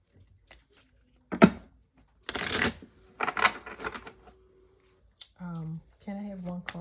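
A deck of tarot cards is shuffled in quick riffling bursts, close and crisp, with brief pauses between, followed by a person speaking.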